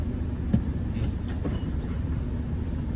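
An old car's engine idles steadily after fuel-system bleeding, with a possible injector fault causing stumbling; a continuous low rumble with a few brief knocks or hitches early on, no talking.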